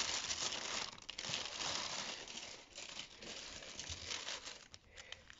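An ordered parcel being opened and unwrapped, with steady crinkling and rustling of paper and plastic packaging, close and continuous, with occasional tearing and no speech.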